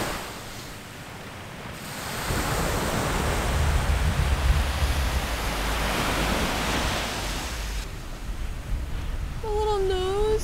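Ocean waves break and wash up a seaside beach, a broad loud roar of surf rising and falling with wind buffeting the microphone, and a brief high squeaky sound near the end.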